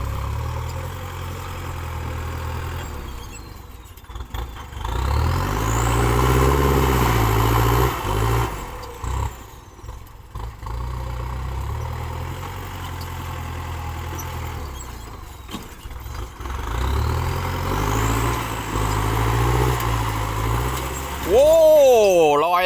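Heavy diesel engines of a tractor and a dump truck at a muddy work site, droning steadily nearby with repeated rising and falling revs and low rumble, one surge ending sharply near the end.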